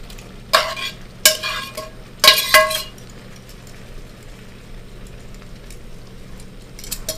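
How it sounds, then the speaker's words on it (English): Penne pasta being stirred through sauce with a few sharp metallic clinks and scrapes in the first three seconds, then only faint background sizzle. "You have to stir the pasta."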